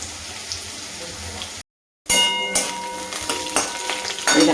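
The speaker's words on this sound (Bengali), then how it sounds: "এই দেখো আলুগুলো লাল লাল করে ভাজা হয়ে গেছে।" Potatoes fry in a pan in a home kitchen with a steady crackling sizzle. The sizzle cuts out briefly, then returns with sharper pops and spits.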